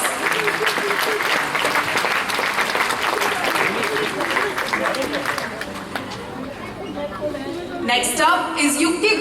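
Audience applause at a school's annual prize distribution ceremony, a dense, sustained clapping from a large crowd that fills the whole stretch at steady loudness, with faint chatter mixed in.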